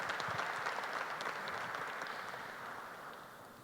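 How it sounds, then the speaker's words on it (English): Panel discussion audience applauding a panelist, a dense, distant wash of many hands clapping together that holds steady and then gradually fades. "So a big round of applause."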